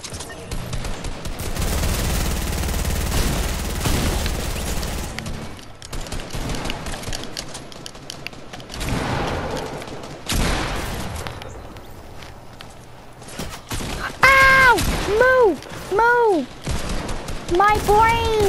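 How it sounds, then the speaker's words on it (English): Fortnite gameplay fills with rapid bursts of gunfire and grenade blasts, dense and loud for several seconds, then thinning out into scattered shots before a series of sharp pitched tones near the end. "I'm just throwing grenades. I just killed somebody with a grenade."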